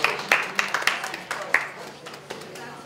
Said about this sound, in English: Big round of applause for Dan Jelly back there